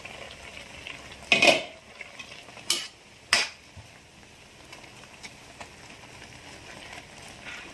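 A pot lid clatters onto a cooking pot on a home stove, giving three sharp metallic clanks spaced about a second apart over a faint simmering background.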